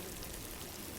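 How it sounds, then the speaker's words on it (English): A dense, steady crackling hiss of millions of maggots chewing through a piece of steak outdoors in Nairobi National Park, like countless tiny wet clicks and rustles blended into a continuous wash of sound. "That's the sound of millions and millions of maggots chewing their way through a juicy piece of steak"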